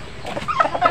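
A Texas-breed hen clucks in a farmyard, a few short, moderately loud clucks in an uneven rhythm, close by and with no voices.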